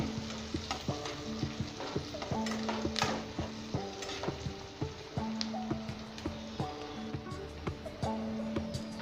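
Onions sauté in a pan while being browned for a Gujarati chana dahi pauwa dish, giving a soft continuous sizzle with repeated spoon scrapes and stirring clatters close by, fairly quiet overall.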